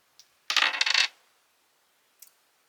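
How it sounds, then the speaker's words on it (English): Dice are rolled for a crochet colour-picking game, a brief tap followed by a half-second rattling clatter as they tumble and settle, then a small click a moment later, close and crisp in a quiet room. "So I'm going to roll the dice now, and I'm going to roll again for 4 times."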